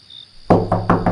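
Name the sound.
knocking on a door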